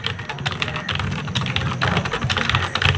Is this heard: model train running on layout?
no